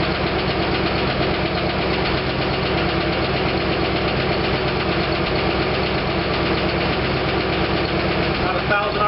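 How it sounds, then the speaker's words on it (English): A 1956 DeSoto Seville engine idles steadily at close range, a continuous rumble with a fine rapid ticking from hydraulic lifters still purging air. "Noise, which isn't uncommon in the beginning as the air purges out of the hydraulic lifters."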